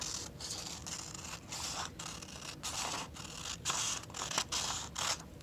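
Scissors snip steadily through paper along a drawn line, a series of crisp close cuts in an uneven rhythm, quiet and with no voices.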